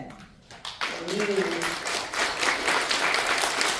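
An audience in Rakvere applauds during a town play, a dense, sustained burst of many hands that swells after a brief quiet and carries on, with a voice briefly heard over it.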